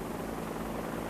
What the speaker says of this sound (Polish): Widzimy już charakterystyczny helikopter, który za chwilę wyląduje na stadionie KS Beskid